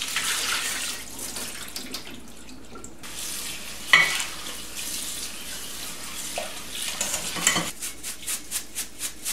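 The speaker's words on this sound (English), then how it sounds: "So we are going to drain it right now" Water runs and splashes steadily as soaked rice is drained in a kitchen sink before being dried for homemade rice flour, with a brief clatter midway and a rhythmic trickle toward the end.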